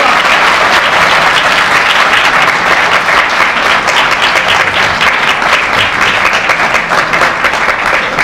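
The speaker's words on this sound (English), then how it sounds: "Give him a round of applause." Loud, sustained applause from a crowd at a White House protest against the US war on Libya, a dense, even wash of clapping that holds without pause for several seconds.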